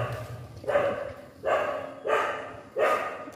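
A dog barks in four loud, evenly spaced bursts close by, each bark ringing briefly before the next, with no one speaking over it.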